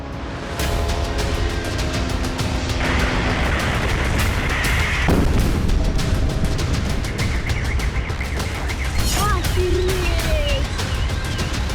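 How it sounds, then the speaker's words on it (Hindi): A loud, sustained blast and crackle of drone-attack explosions in Moscow, with rumbling booms over continuous roaring noise, close and harsh, with brief shouted voices. "Тут сейчас такой взрыв был"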